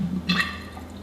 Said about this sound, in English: now we're filling the bottle.